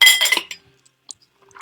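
Glassware clinks while tequila cocktails are mixed, a few short, bright, close taps with quiet gaps between them, following a brief burst of louder clatter at the start.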